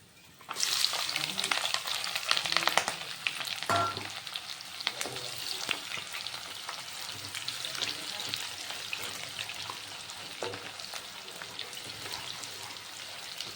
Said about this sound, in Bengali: পেঁয়াজটাকে সুন্দর লাল লাল করে ভেজে নেব